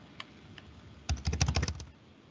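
Code being typed on a computer keyboard: a few isolated taps, then a quick close burst of rapid keystrokes that fades to quiet.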